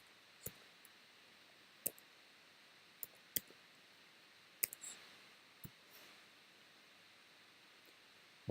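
A card number is typed on a computer keyboard as sparse, quiet individual key clicks with irregular gaps in an otherwise hushed room.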